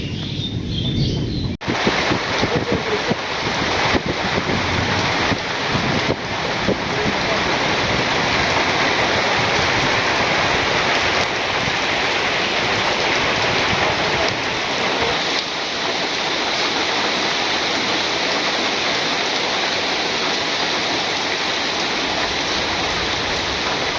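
Heavy rain pours steadily with gusting wind in a village during a storm, a dense, constant wash of noise that stays loud throughout after a brief quieter opening.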